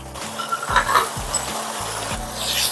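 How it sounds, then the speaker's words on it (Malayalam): Roasted nuts tipped into a pot of pumpkin payasam and stirred, a close spoon scraping in repeated strokes with a soft simmering bubble beneath, no talking. "ഇനി നമ്മൾ വറുത്ത് വെച്ചിരിക്കുന്ന നട്ട്സ് ചേർക്കാൻ പോവാണ്."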